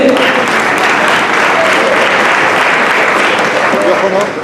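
Loud, sustained audience applause for Cristian Huepe at a Spanish-language talk, a dense steady wash of clapping filling the room with little variation.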